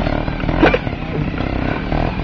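A radio-controlled observed trials motorbike runs close by with a steady buzzing whine that rises briefly near the start, then holds at an even level for the rest of the short stretch.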